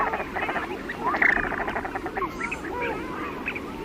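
Shelduck calls from a nature recording of coastal birds, a dense chorus of repeated nasal, quacking notes overlapping at steady volume throughout.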